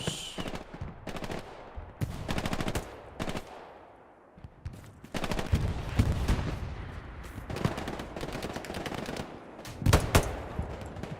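Gunfire in the console World War II shooter Hell Let Loose on the Mortain Hill 314 map, with loud repeated rifle and automatic bursts in clusters, short quiet gaps between volleys, and heavy firing throughout.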